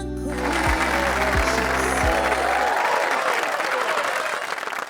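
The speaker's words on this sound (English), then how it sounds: "There was breathless stillness, then thunderous applause." Loud, dense audience applause from a concert-hall crowd after a final note fades, with a low sustained tone and a few deep thuds beneath at first, the clapping continuing steadily for several seconds.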